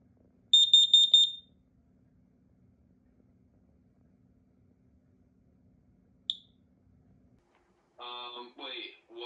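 A large combination smoke and carbon monoxide alarm sounds a short burst of piercing, rapid high beeps, then a single chirp after a quiet pause, and finally a recorded voice announcement near the end.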